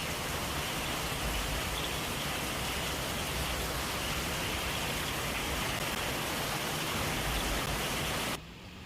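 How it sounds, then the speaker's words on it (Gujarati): Torrential monsoon rain pouring over Junagadh and the Girnar hills in Gujarat, a dense, steady hiss that fills the whole stretch before cutting off abruptly near the end, with no voices. "જૂનાગઢ, ગિરનાર અને દાતાર પર્વત પર ધોધમાર વરસાદ ખાબકી રહ્યો છે."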